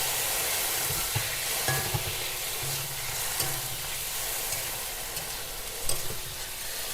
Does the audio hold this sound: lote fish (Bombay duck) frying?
yes